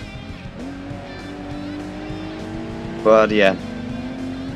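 A modified Porsche 911 Turbo with a turbo kit, a CTR2 in the game Gran Turismo 2 on the Rome Circuit, holds a steady engine drone and gives a brief tire squeal near the end while someone talks over it.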